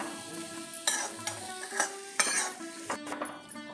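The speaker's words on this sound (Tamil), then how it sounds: "அடுப்பில் கடாய் வச்சுருக்கேன் ஒரு கப்பு தேங்காய் துருவல் ட்ரை ரோஸ்ட் பண்ணிக்கலாம்" Grated coconut dry roasts in a kadai on the stove. A spoon stirs and scrapes in several short, irregular strokes, with a faint crackle underneath, close and fairly quiet.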